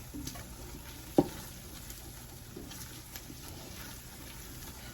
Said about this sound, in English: I'll let this cook for just a couple of minutes to get rid of that flour taste